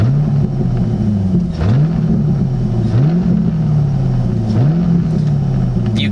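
A C5 Corvette engine idles steadily and is revved four times in a slow, even rhythm, each swell rising and easing back, with a loose shifter knob rattling along; loud and close.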